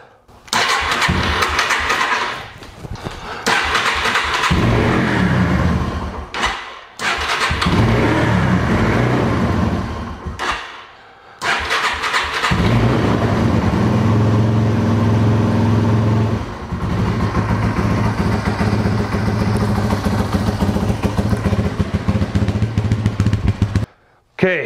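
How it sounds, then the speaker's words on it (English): A Yamaha TW200 motorcycle fitted with a new carburetor is cranked and fires up, several loud start attempts broken by short pauses, then the engine catches and runs steadily close by, with a voice talking over parts of it. "tighten down these screws and see if this baby starts."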